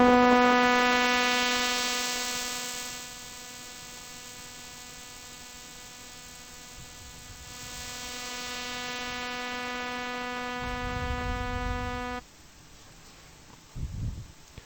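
Synthesizer tone with a strong filter envelope applied, giving a drastic filter sweep; a sustained harmonic-rich note whose brightness shifts markedly over about twelve seconds before cutting off, followed by brief low noise.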